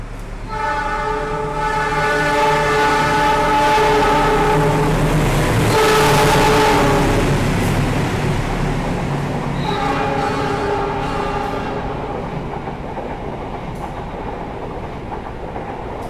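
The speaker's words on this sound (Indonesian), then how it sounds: "Yang baru saja melintas itu adalah kereta api Ranggajati dari stasiun Cirebon" A passenger train, the Ranggajati from Cirebon, rumbles steadily past close by with a clattering roar, while a loud, sustained horn blares over it and then fades.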